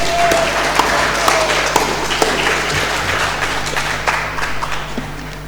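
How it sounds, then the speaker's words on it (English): Audience applause at an international symposium keynote on establishing a world-class university, a steady, dense clapping from a large indoor crowd lasting throughout, with a few sharper individual claps standing out. "Please welcome and give a round of applause to her."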